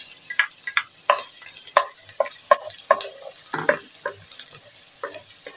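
Garlic sautés in hot oil in a pan, sharp close-up sizzling bursts and spatula scrapes in an uneven rhythm, heard alone.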